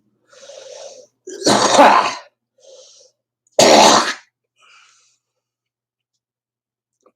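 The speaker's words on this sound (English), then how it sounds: "That's a productive cough." Two loud, wet productive coughs from one person, each a harsh burst about half a second long, set a couple of seconds apart and close to the microphone, with quieter breathy throat noises between them.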